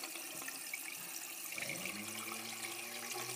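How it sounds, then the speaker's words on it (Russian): Water rushing and pouring steadily as it floods in, a faint continuous gush with rising tones as the water level climbs. "Мне кажется, вода уже по колено."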